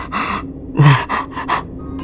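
Heavy, ragged panting gasps, several sharp breaths in quick succession, close and loud with no talk, as if heard down a phone line in an animated horror story.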